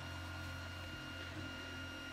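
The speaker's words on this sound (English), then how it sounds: "Here my little 3D printer going in the background." Small 3D printer running quietly in the background, a faint steady mechanical hum with tonal whine and a soft shift in pitch as its motors move.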